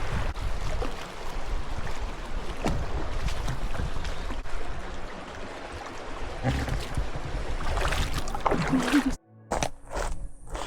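River flowing over slick rocks in the Emigrant Wilderness, a continuous rushing wash of water heard close, with footsteps and rustling on the trail and a brief handling bump near the end.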